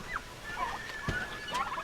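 Turkeys gobbling and chattering outdoors on a farm, a few short warbling calls close by, with a faint steady hum underneath.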